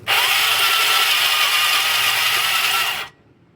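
A motorcycle engine with no compression spins over with a harsh, even whirring for about three seconds, then cuts off abruptly into quiet.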